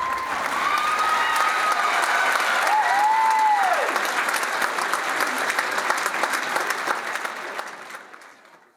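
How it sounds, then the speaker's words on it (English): A big audience at a beauty pageant applauds loudly and steadily for the contestants, the clapping gradually fading out at the end, with a brief whistle near the start. "Let's give all of our contestants a huge round of applause."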